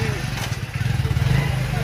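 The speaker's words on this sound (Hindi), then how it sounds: "बाइक स्टार्ट हो रही है इसकी" A motorcycle engine running close by with a steady low rumbling throb, under overlapping talk.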